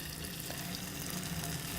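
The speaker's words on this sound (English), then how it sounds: "We're going to put the fish cake into the pan" Balinese fish cakes sizzle steadily in hot oil in a pan, a continuous dense frying hiss held at an even level from start to finish, with no speech over it.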